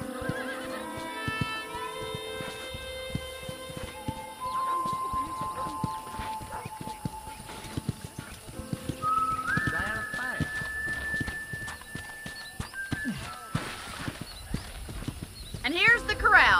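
Horse hooves clip-clop with occasional whinnies amid Red Dead Redemption game music and ambient tones at a ranch corral, with people talking throughout.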